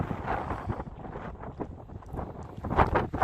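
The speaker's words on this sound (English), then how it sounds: "Very windy" Strong gusting wind on Gass Peak's summit ridge in Nevada buffets the microphone, cold and near zero visibility, roaring and rumbling unevenly, with louder blasts toward the end.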